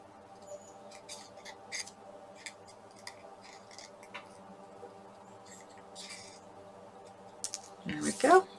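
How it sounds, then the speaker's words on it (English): Scissors trim paper for a scrapbook circle layout in quick, faint, close snips and rustles, with a louder crinkle of paper near the end. "I'm just going to trim this a little bit more"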